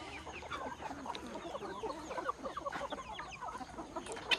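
Free-range village hens on a farm cluck and murmur continuously in a busy, overlapping chorus in the early morning, fairly close but soft, with no talking.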